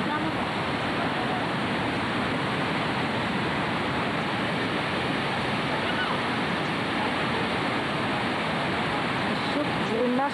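Floodwater rushes loudly and continuously through the Harod stream near the Roman bridge west of Beit She'an, a dense, unbroken roar of flowing water heard alone with no talk.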